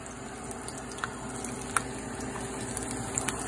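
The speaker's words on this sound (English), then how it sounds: "Got a light little sizzle there." Beef bacon strips sizzle gently in a pan over moderate heat, a light, steady frying hiss with scattered small pops and crackles throughout, close and fairly quiet, with no one talking.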